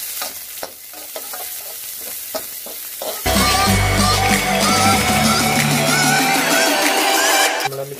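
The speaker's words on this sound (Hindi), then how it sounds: "इसमें डाल देंगे प्याज, गोल्डन ब्राउन कर लेंगे पहले" Onions frying in a pan for veg Manchurian: quiet scraping stirs at first, then a loud, dense, crackling sizzle erupts and holds steady for several seconds before cutting off, close up and with no talking.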